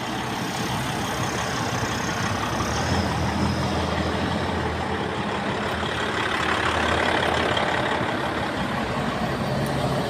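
A Cat mining truck's heavy diesel engine running steadily at idle, a dense, loud, continuous rumble with a broad mechanical hiss, unchanging throughout.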